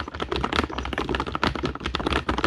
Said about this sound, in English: you can hear the keyboard a little bit